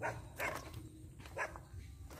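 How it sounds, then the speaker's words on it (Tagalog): Several dogs barking angrily at a distance in a rural Philippine fishing spot, a few sharp faint barks spaced out over a low background. "may mga aso doon. Mukhang nagagalit naman."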